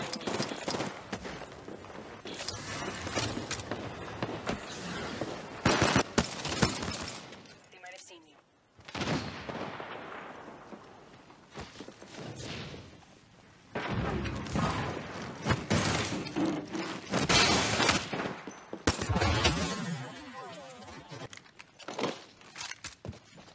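Gunfire from the Apex Legends video game comes in repeated bursts and scattered shots, with thuds and mechanical clatter, under excited talk from several players.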